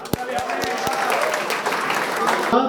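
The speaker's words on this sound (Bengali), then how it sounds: "এটা হাততালি, জোরে এটা হাততালি।" Audience applause at an apartment-complex political meeting, a dense sustained clapping from a crowd with a few sharp louder claps near the start, while people talk over it.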